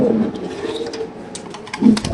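Maxi racer pigeons kept in cages coo in two short, low bursts, one at the start and one near the end, close and fairly loud, with faint rustling between.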